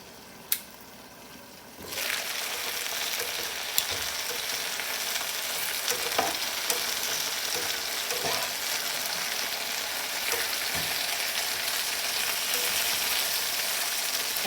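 Potatoes and pork chops fry together in one pan. After a faint start and a single click, a loud, dense sizzle swells in around two seconds and holds steady, with occasional pops and light scrapes.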